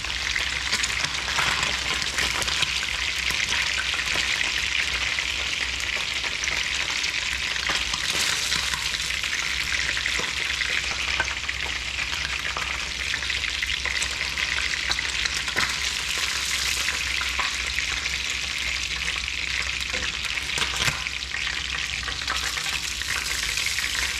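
Tulingan (bullet tuna) fries in a pan with a loud, constant crackling sizzle that keeps an even level throughout, near and alone, with no voices.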